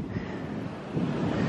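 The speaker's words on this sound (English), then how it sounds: "Even though it's windy. I'm glad it's windy." Steady wind buffets the microphone outdoors on a hot, breezy day in Orlando, a continuous low rumble that swells slightly louder near the end, with no talking.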